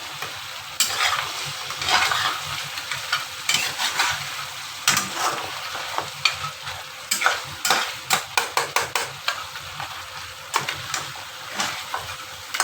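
Beef karahi with red chilli powder and black pepper fries in a pan, a frying hiss broken by frequent stirring scrapes and clanks of a utensil against the pot, close and with no talking.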